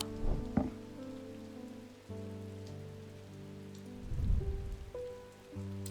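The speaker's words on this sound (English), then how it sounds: "It is raining." Steady rain falls in the puzzle game Strange Antiquities, a soft continuous patter under sustained tonal background music, with a few louder swells.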